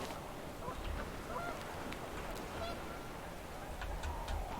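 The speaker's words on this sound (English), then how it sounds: "The wind picked up and panicked geese appeared and quickly went." Panicked geese honk in a video game scene on a windy day, scattered faint calls rising over a steady rushing wind bed, fairly distant and quiet throughout.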